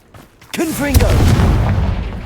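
A Confringo blasting spell goes off in Hogwarts Legacy, a sudden loud burst followed by a sustained rumbling roar, with a voice shouting alongside it.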